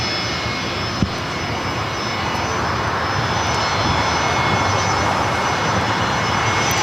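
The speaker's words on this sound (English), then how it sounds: "It's Alaska Airlines Flight 1315 taking off to Portland" An Alaska Airlines jet bound for Portland thunders down the runway on takeoff at LAX, a broad steady roar with a whining tone, heard from a distance and building gradually.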